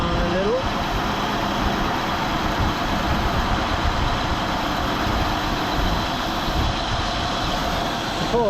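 Carburetted engine idling down after a carb and fuel pump fitting, a steady low rumbling drone held at even loudness throughout with no talk over it.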